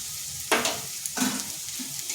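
Onion and garlic frying with salt sizzle close in a pan, broken by two sharp scraping stirs of a spatula and softer stirring after.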